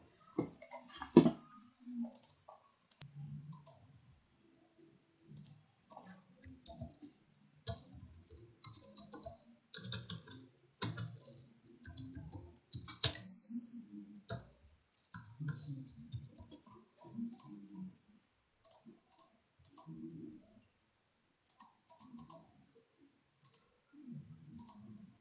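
A computer mouse clicks repeatedly in short, irregular bursts, crisp and close, mixed with quieter keyboard-like taps and gaps of silence.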